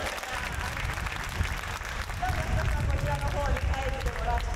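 Applause from the audience at a 1995 benefit concert in support of Great Hanshin earthquake recovery, a steady dense wash of clapping that carries on throughout, with crowd murmur and voices mixed in underneath.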